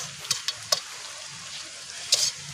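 Sambal crackling in hot oil in a pan, cooked for fried eel, a steady hiss with a few sharp pops and spatters, close up and with no talking.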